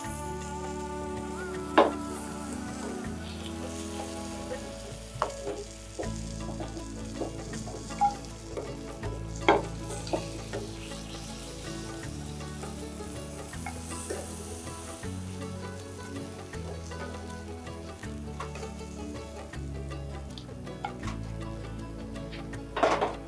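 Pieces for an iftar sweet fry in hot oil, a soft continuous sizzle with occasional faint taps and stirring clicks, quiet and under a low background hum of tonal sound.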